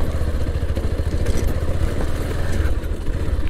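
A Bajaj Pulsar 220F motorcycle engine runs steadily and loudly up close, a low throbbing rumble with mechanical clatter on top, continuous and unbroken throughout with no voices.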